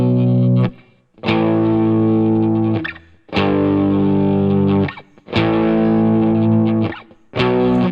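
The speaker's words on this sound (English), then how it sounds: "Just try to incorporate notes from the pentatonic scale into it." Distorted electric guitar plays a slow pentatonic scale solo in four loud, sustained phrases separated by brief pauses, with a thick effects-laden tone and no talking.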